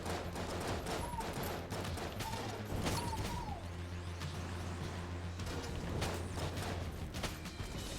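Gunfire in the Enter the Gungeon video game comes as rapid volleys of small shots mixed with mechanical clicks and whirring, moderately loud and fairly continuous.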